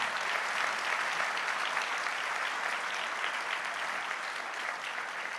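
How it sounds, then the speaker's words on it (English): A large convention audience at a comic con main stage gives a huge, sustained round of applause, dense clapping and cheering filling the whole stretch at steady loudness without a break. "Okay, we'll do another huge round of applause."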